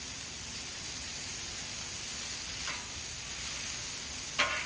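Smash burger patties sear on a hot surface, giving a steady close sizzle and hiss with a couple of brief louder scraping spatters and no speech.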